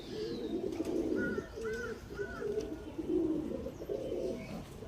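Teddy pigeons, a male and a female, coo in a series of soft, throaty, rolling calls close by, with a few faint chirps above them and no voices.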